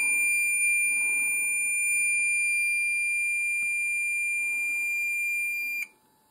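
An SMS SenTRI fire alarm system sounds during a display test with steady, high electronic tones that run continuously for about six seconds, then cut off abruptly, with faint low background noise beneath.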